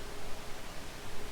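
A gaming computer running at full load makes a steady, low broadband hiss and whir in the background, faint and even with no voices over it.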